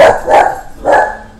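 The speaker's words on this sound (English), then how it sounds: "If you hear a dog going crazy, that's my dog." A dog barks excitedly nearby while a Duelyst ladder game is being played, with three loud, separate barks spaced across the moment and no talk.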